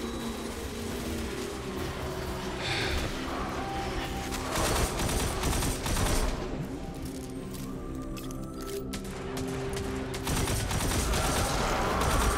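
Gunfire in the video game aDrift in a Season of Salt comes as rapid, repeated sharp bursts over a busy game soundscape, moderately loud and continuous without talk.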